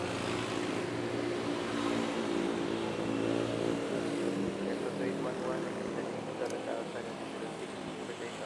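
A Philippine Air Force military Airbus at Manila Airport gives off a steady, continuous engine roar and hum at moderate distance, holding even throughout, with voices talking over it.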